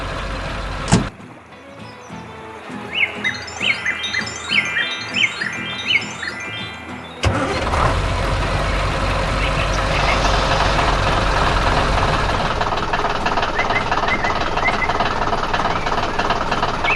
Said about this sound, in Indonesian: sekarang kita di tengah perjalanan yang penuh semangat dengan traktor yang sedang bekerja keras di kebun yang hijau